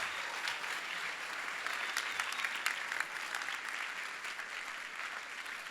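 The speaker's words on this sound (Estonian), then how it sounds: "teeme neile veel ühe suure aplausi" An audience at a playback show applauds performers, a continuous wash of many hands clapping at a steady, fairly distant level with a few sharper claps standing out.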